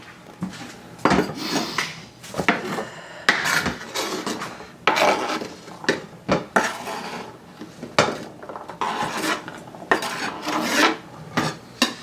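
A knife chops celery on a board in a home kitchen, a busy run of rapid, close, crisp cutting strokes with short pauses between bursts, loud and continuous with no voices.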